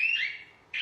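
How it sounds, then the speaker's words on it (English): A smoke alarm shrills while steak is basted in butter in a home kitchen, a loud, piercing high tone that sounds, dips briefly, then blares again, with no talk. "I'm making the smoke alarm go off"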